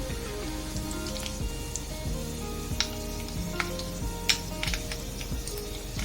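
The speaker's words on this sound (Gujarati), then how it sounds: "એટલે હવે આપણે એમાં રાઈ જીરું નાખશું. હાજી. હવે ઈ તતડવા આવે" Mustard seeds and cumin hit hot oil with a steady close sizzle dotted by sharp, scattered pops and crackles, no voices.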